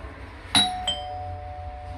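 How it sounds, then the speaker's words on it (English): A Honeywell D117 ding-dong door chime, triggered by a Nest Hello doorbell, sounds two clear ringing tones, a higher ding then a lower dong with a lingering decay, over a quiet room hum. "Here's a video to just show you how loud the Honeywell Ding Dong chime is."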